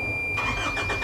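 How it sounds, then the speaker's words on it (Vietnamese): A VEAM VT260-1 1.9-ton box truck with an Isuzu Euro 4 diesel engine starts up close by, the cranking catching into a smooth, fairly quiet idle. "Bây giờ mình sẽ các bạn cùng nhau đề máy thử cái chiếc xe này nha."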